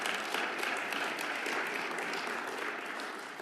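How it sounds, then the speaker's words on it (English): An audience applauds at a political conference, a dense, steady wash of many hands clapping that tapers off slightly toward the end. "That's worth clapping for, too."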